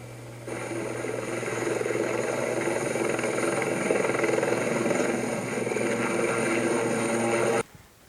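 A helicopter's steady, loud rotor-and-engine drone holds for several seconds with a constant low hum, then cuts off abruptly near the end.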